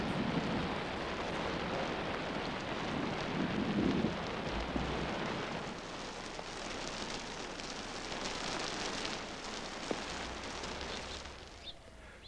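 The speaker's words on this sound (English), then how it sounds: "and the rains come" Steady heavy rain pours over the desert during a summer thunderstorm, with dull rumbles of thunder underneath, filling the whole stretch continuously and fairly close.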